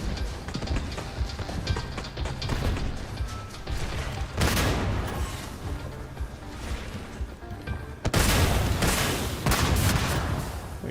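Combat in the Starfield video game brings sustained rapid gunfire and heavy booming blasts that swell abruptly midway and again near the end, dense and loud throughout.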